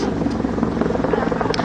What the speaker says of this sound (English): We continue to have a helicopter overhead. My guess is that's a police chopper.